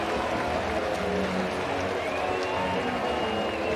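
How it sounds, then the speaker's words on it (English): Stadium crowd at a Vanderbilt vs Florida college football game, a steady wall of cheering and roaring that stays loud and dense throughout, with a faint voice in the mix. "How about the crowd getting into it now?"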